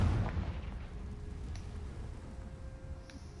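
Confringo blasting spell going off in Hogwarts Legacy, a deep rumbling boom up front that fades into a low sustained roar, with a couple of faint crackles later.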